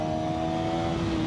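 A KTM 350cc street motorcycle, throttle pulled in third gear, holds a steady loud engine drone with a sustained tonal whine for about a second.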